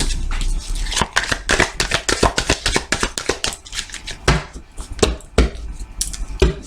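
Close, crisp taps and slaps of a tarot deck being handled and cut on a table, irregular clusters of sharp card clicks with brief pauses between them.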